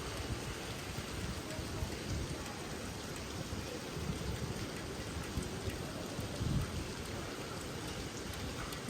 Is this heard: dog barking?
no